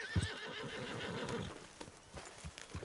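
A horse in the video game Red Dead Redemption 2 neighs and whinnies loudly, with hooves clip-clopping and snorting around it in a short burst.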